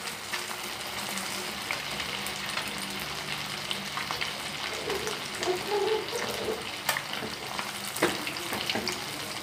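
Spicy fish frying in a pan, a steady close sizzle and hiss holding at an even level with faint crackles throughout and no talk.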